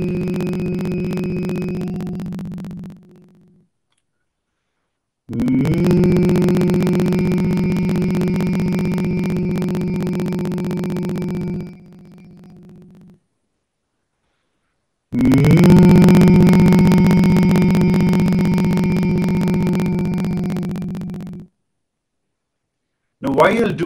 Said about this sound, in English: As long as possible, just hum.